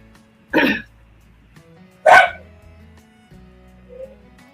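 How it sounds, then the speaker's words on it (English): A playful dog makes two short, gruff vocal bursts close by, then a fainter third sound, with quiet room sound between them. "Can you hear the dog growling?"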